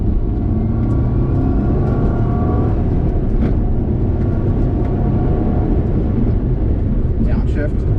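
Simulated car engine in a racing video game, droning steadily and loud throughout as it revs and holds under hard driving, with a voice talking over it.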